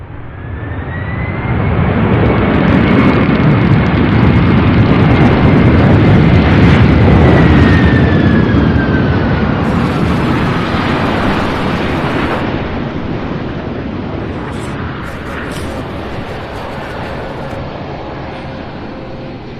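A fixed-wing airliner on approach to runway 17 right at Louisville International Airport, its roar swelling loud and broad, then easing off slowly with a falling whine, mixed with wind buffeting the microphone.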